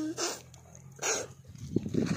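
A dog gives a couple of sharp barks close by, followed by softer whimpering yelps.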